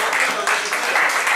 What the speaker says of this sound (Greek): Ένα χειροκρότημα για την υποψηφιότητα.